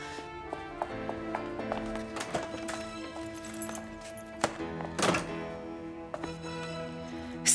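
Horse hooves clop unevenly on hard ground in a dramatic scene, a string of hollow knocks mixed with sharper thumps, moderately close over faint background music with no speech.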